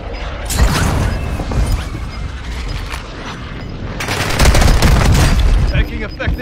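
A video game airstrike brings heavy booms and rumbling explosions mixed with rattling gunfire, loud and sustained, swelling midway, with voices speaking over the chaos.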